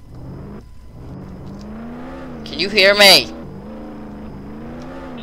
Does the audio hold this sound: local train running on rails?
no